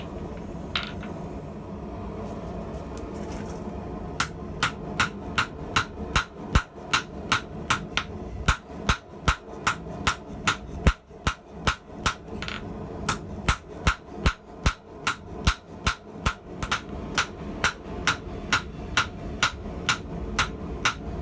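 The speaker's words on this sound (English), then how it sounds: "I'm going back to using my 2-pound YK30 steel hammer" Sharp metallic blows of a 2-pound YK30 steel hammer ring out on metal being forged into wire cutters, in a fast, steady rhythm, dozens of close, loud strikes after a brief quieter start.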